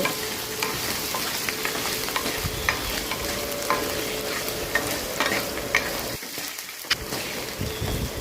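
Chana dal roasting in oil for lemon rice sizzles steadily and densely, a close, continuous crackling fry with occasional stirring, and nobody speaks.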